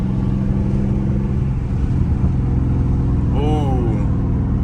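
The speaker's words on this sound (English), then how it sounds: "My upshift sounds so good." A Scat Pack car's engine drones loudly and continuously at full throttle, its pitch shifting as it runs through upshifts; a voice briefly cuts in near the end.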